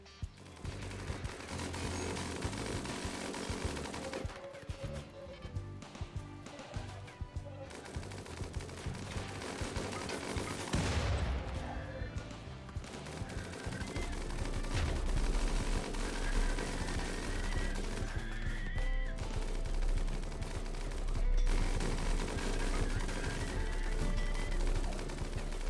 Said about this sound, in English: Whoa, the mini turret actually hit that one.